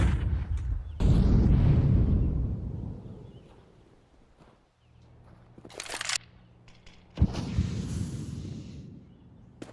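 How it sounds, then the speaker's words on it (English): Grenade explosions in the video game Counter-Strike 2, with two loud booming blasts whose rumbling tails fade out, separated by quieter in-game noise. "Grenade. Grenade out."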